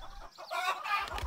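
Chickens clucking close by in a short burst of throaty hen calls, rising and warbling, with no talk over them.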